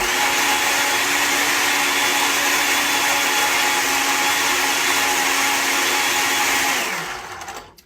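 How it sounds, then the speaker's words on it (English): Countertop blender whirring through a Shakeology shake with ice, a loud steady high-pitched motor drone that runs several seconds then winds down as it switches off. "put it on the blender for even longer"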